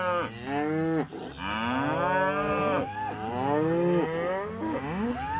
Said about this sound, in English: now they're separating the cows from the calves